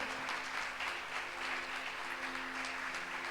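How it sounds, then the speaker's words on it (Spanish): A church congregation at a Sunday service claps together in a dense, sustained burst of applause, with a low hum of organ or keyboard tones underneath. "Dale un fuerte aplauso al Rey de Gloria."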